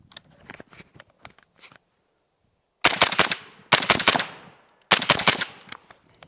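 A SIG MCX rifle fitted with a Q Southpaw 5.56 suppressor fires in quick bursts of several sharp, muffled cracks, first softer shots, then a pause, then three loud close-range strings with brief decays between them.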